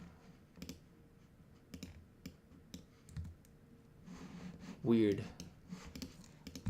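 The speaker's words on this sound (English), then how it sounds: "All right, I can type here now." Computer keyboard typing in bursts of clicks and taps at moderate distance, with a brief spoken word partway through.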